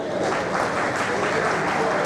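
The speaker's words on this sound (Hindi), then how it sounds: "लड़कियां आप ताली बजा दो इस बात के लिए" Girls in an audience at a National Voters Day event clap together in a dense, steady burst of applause that fills the room evenly from start to end.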